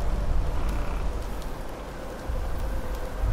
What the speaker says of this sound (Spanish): Está lloviendo fuerte, ¿eh?